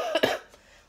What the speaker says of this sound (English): sorry about my coughing